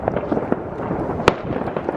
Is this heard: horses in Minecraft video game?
no